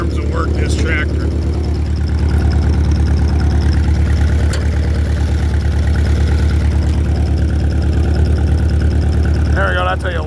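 An old Allis tractor engine runs at a steady idle, a loud, close, evenly throbbing mechanical chug that holds throughout, with brief voices faintly heard near the start and end.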